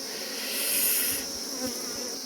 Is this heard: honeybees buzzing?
yes